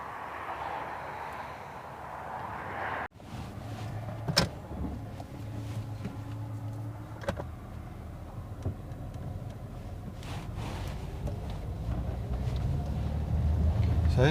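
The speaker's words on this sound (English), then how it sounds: "the driver's eye view of driving the Nissan Laurel" A Nissan Laurel C31 hums along the road from inside the cabin, a low steady engine and road drone after a sharp thunk, with faint knocks and rattles and the drone swelling toward the end.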